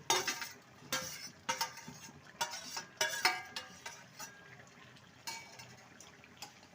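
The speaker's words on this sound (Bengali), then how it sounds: "ভালো করে নেড়ে নেবো" Fried onion, tomato and capsicum are stirred into a reduced sauce in a cooking pan for chilli cauliflower, with a series of close, clattering spoon scrapes and wet sloshing strokes.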